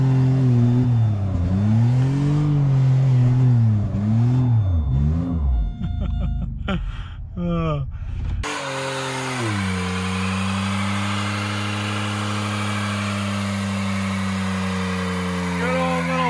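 A Pontiac G6 doing a burnout roars close and loud, its engine revving in rising and falling surges before settling into a sustained high, steady howl with a harsh hiss of spinning tires.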